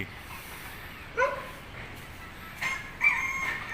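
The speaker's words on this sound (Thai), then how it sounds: "เช้านี้ น้องหมานี่ก็เห่าจริง" A dog at Khao Wang temple hill in Ratchaburi, Thailand, gives a few sharp barks in the cool morning, spaced out against quiet outdoor ambience, with a rooster-like call mixed in near the end.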